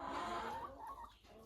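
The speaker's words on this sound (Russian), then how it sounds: "Вот тут у меня во втором отсеке живут молодые курочки." Young hens cluck softly in a coop, a faint, distant murmur of fowl calls with no voices.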